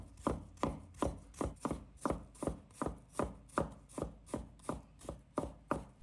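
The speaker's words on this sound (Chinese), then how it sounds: "再准备一块生姜，把它切成片" A knife slices through fresh ginger in a quick, even rhythm of about a dozen crisp chops, each a sharp close thud against the cutting surface.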